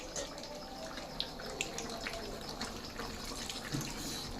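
Water runs and trickles into a cooking pot of gravy, a faint steady pour with small splashes and drips, close by under quiet kitchen background.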